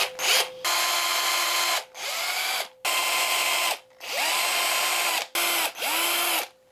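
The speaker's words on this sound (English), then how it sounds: "First, I'll drill some pilot holes, just a little smaller than the giant holes I'm gonna have to drill." A power drill bores pilot holes into a wooden pilchard-style mahi trolling lure in about six separate whining bursts, loud and close, with short pauses between runs.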